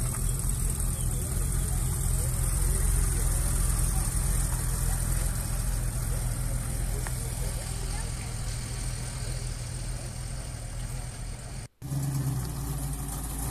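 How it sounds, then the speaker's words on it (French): A classic Ford Mustang pulls away at a collector car gathering, its engine rumbling steadily, then cutting off briefly before resuming. "La Mustang qui s'en va."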